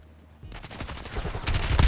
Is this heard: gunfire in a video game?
yes